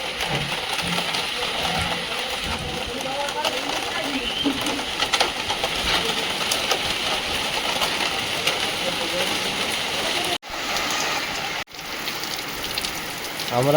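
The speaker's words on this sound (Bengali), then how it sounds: "ভীষণ বৃষ্টি হচ্ছে দুদিন ধরে" Heavy rain falls steadily throughout, a dense broadband wash of drops on surfaces, close and loud, with voices talking faintly beneath it and two brief dropouts near the end.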